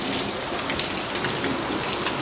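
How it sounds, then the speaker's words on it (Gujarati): A heavy downpour falls outside a house, a dense, constant roar of rain on surfaces with no pauses and no speech. "વરસાદ થઈ ગયો, વિડીયોમાં દેખાય કે નહીં દેખાતું, પણ બહુ ફૂલ વરસાદ છે."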